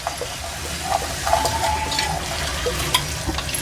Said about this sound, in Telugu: అన్నీ ఇట్లా డీప్ ఫ్రై చేసుకోవాలి మనం.